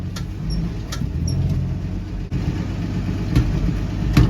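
A 1967 Dodge van's slant-six engine runs steadily and loud, with a deep rumble held throughout and a few brief surges toward the end.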